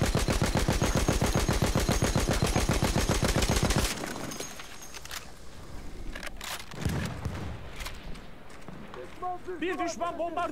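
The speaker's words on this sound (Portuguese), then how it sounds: "Vou derrubar o avião com essa metranca aqui" In Battlefield 1, a mounted machine gun fires at an aircraft in a fast, continuous, loud burst that cuts off after about four seconds, followed by scattered battlefield noises and a voice.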